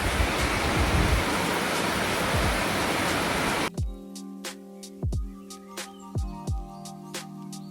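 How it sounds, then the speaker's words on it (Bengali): Heavy rain falls outside with a dense, loud, continuous roar for several seconds, then it gives way to a quieter stretch of scattered clinks and knocks. "দেখো বাইরে কি পরিমাণ বৃষ্টি হচ্ছে"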